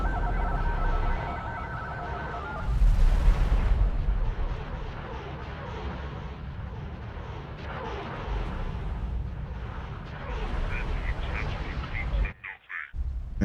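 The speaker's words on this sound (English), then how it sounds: "Yeah, our big guns are firing now." Heavy ship cannons boom in a Star Wars space-combat mod for X4, a loud dense barrage of deep blasts over a rumbling battle din, with a brief dropout near the end.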